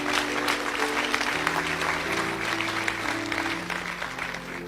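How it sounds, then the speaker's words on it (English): An audience at a motivational talk gives a sustained round of clapping over a low, steady musical hum, moderately loud and even throughout. "you need to clap on that"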